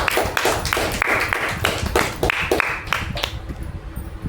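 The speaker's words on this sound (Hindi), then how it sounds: "एक जोरदार तालियों से स्वागत किया।" Audience clapping to welcome people at a health awareness mission meeting, a scattered run of claps, near and fairly loud, thinning out toward the end.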